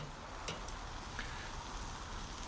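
Dry aged prime ribeye steaks sear on a hot surface outdoors, giving a constant, fairly soft sizzle with a few small pops and no voices.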